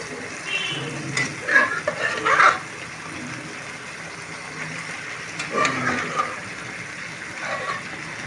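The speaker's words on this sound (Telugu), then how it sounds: "ఇవి కొంచెం దాంట్లో ఫ్రై అవ్వాలి నూనెలో." Mutton fries in oil with soft sizzling and intermittent stirring scrapes in short bursts, fairly close, between quieter pauses.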